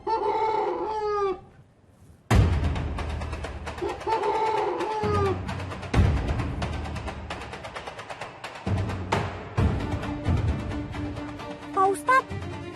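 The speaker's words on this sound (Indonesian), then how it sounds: "itu ayam apa? Gede banget." Large chicken or rooster crowing in outdoor scene, loud harmonic crow calls opening the sequence then recurring amid background music and scene noise; no speech over the crows.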